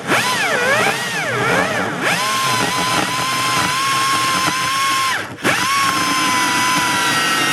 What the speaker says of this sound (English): we'll be using this angle grinder to get into this area